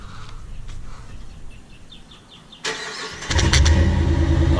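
An 841hp Corvette fitted with duck calls idles quietly at first, then its engine catches and revs up sharply into a loud, steady roar that holds at the end.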